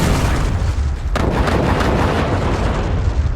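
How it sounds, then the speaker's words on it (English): A gunpowder blast in the video game Final Fantasy Tactics booms loudly. A sharp burst hits about a second in, then a heavy rumbling roar sustains to the end. "Ramza tries to warn him of the explosion, but it goes off before we can even get the words out"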